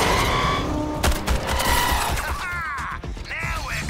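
Sustained automatic gunfire and impact bursts from the video game Suicide Squad: Kill the Justice League as an incubator is shot and destroyed, loud and dense with sharp cracks, shattering hits and whooshing effects layered over game music.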